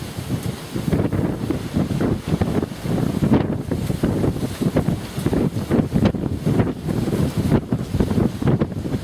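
Strong gusts buffet a microphone outdoors, a loud continuous low rumble that swells and dips for several seconds with no voices.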